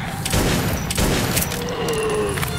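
Sharp bursts of gunfire from the video game Metro 2033 crack out a few times over a constant rumbling background, loud and punchy like combat sound effects.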